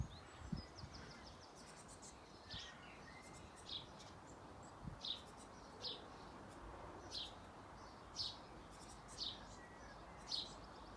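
Great tits call in a garden near a bird bath, with short, bright chirps repeating at a steady rhythm about once a second over a faint background hiss.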